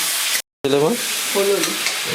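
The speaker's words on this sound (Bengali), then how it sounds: "এবার গোটা গরম মশলা হলুদ ফোড়ন দিয়ে দিচ্ছি" Whole garam masala and turmeric hit hot oil as a tempering, giving a loud, steady sizzle with a brief cut-out and a couple of short tonal sounds over the frying.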